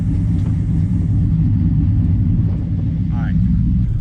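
A Hemi V8 idling with a lopey cam makes a steady, loud, close low rumble with an uneven loping pulse throughout, and a faint voice rises briefly near the end.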